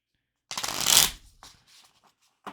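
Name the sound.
shuffling a deck of cards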